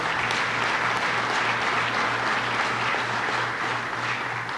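An audience at a government economic development announcement gives sustained applause for an official, steady dense clapping throughout with no speech over it.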